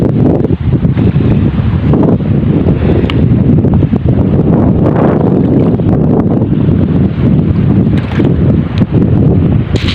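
Strong, continuous sea wind on a rocky shore with whitecapped waves offshore, buffeting the microphone with a roaring rumble, loud and unbroken throughout.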